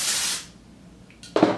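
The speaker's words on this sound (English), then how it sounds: "which is why I'm only spraying this side." Oribe texturizing spray hisses onto hair set in hot-roller curls: one long close burst that fades, then after a quiet pause a brief second spritz.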